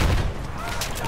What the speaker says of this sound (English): airburst mortars, ouch